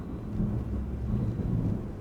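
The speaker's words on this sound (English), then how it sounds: "This thunder is really becoming a concern." Deep thunder from the video game Mass Effect rumbles continuously at a moderate level, a low, steady roll with no talk over it.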